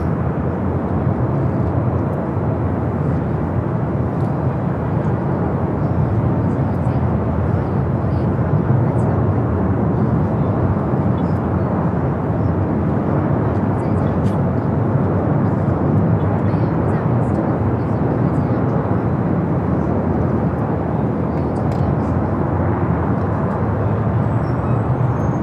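Alaska Airlines jet passing over Los Angeles International Airport, a steady broad roar that holds loud and constant throughout with no clear rise or fade.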